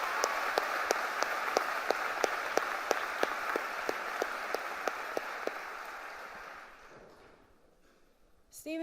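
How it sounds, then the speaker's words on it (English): Audience applause for award recipients at the 2017 Stevenson University commencement morning ceremony, a broad even wash of clapping with sharp regular ticks over it, fading out toward the end before a brief new sound. "please join me in a final round of applause for all of today's recipients"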